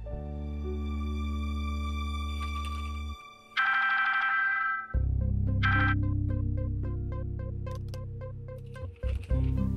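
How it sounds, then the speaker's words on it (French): A mobile phone ringing with a synthetic melodic ringtone, sustained tones shifting through several notes, clear and prominent with no talk over it. "Ton téléphone sonne, réponds."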